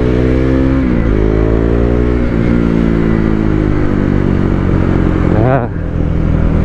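A motorcycle rides through hot summer city traffic in Pasig, its engine droning loudly with shifting revs and passing vehicle noise around it.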